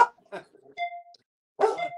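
Puppies give a few short, high yips and barks, separated by brief pauses, while people talk nearby.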